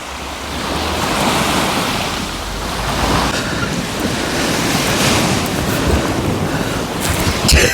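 Calm Black Sea waves wash steadily with a soft rushing surf and some wind buffeting, with no voices.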